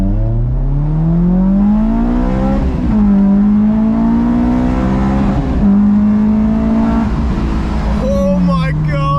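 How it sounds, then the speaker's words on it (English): A modified Honda-style car pulls hard with VTEC engaged, its engine note climbing steeply through several gears with brief dips at each shift, loud and close, ending as it eases off. "we're gonna do our first pull with VTEC"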